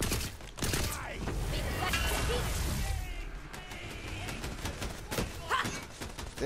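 Rapid gunfire in the fantasy shooter Tiny Tina's Wonderlands: sharp, closely spaced shots and impacts crackle loudly over a busy battle mix, with a voice talking at points.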